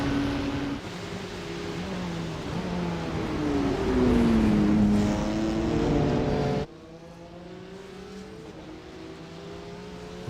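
Porsche 992 race cars climb a hill at the Nürburgring during a 24-hour endurance race, engines droning and revving at a steady distance with rising and falling pitch before the sound cuts to a quieter, farther engine hum.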